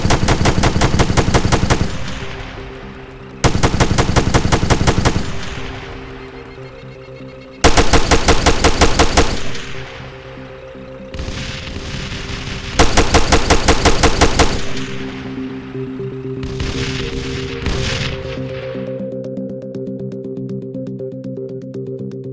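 Heavy automatic weapon fire in the Arma 3 video game, several loud close bursts of rapid shots, each followed by a ringing echo tail, separated by short gaps.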